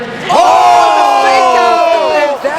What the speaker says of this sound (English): The crowd is getting really hype right now too.